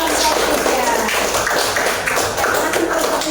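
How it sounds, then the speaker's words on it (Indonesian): Students applaud a group after a classroom peer-teaching presentation. The clapping is close and fairly loud with a rough, tapping rhythm throughout, and voices can be heard underneath. "Tepuk tangan dulu untuk kelompok"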